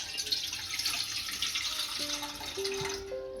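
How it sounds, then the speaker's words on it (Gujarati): Water pours steadily into a pot for boiling Maggi noodles, a soft continuous splash that rises in pitch as the vessel fills, then stops. "આમાં થોડુંક પાણી નાખીશું."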